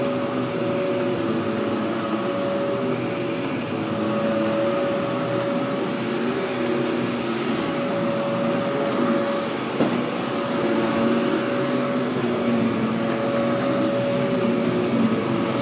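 Hoover Z400 upright vacuum cleaner with strong brush agitation and rather weak suction running steadily, a loud continuous motor drone with a sustained tonal whine and little variation throughout.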